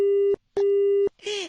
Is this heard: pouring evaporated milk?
no